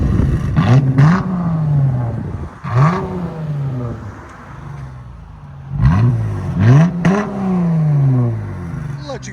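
A Dodge Challenger V6 exhaust revs in repeated rising-and-falling blips, loud and close, with short pauses between the throttle bursts.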